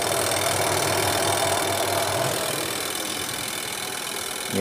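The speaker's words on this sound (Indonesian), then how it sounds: "Kemudian ini pengering kita putar." A top-loading twin-tub washing machine's spin dryer whirs steadily as a continuous motor drone with a dense broadband hum, running without pause and fairly loud at close range.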